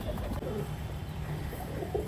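Oman Teddy pigeons coo softly, the low calls half buried under a steady wash of background noise, with no one speaking.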